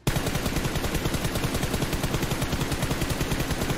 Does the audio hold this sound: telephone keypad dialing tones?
no